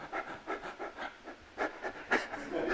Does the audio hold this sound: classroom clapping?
no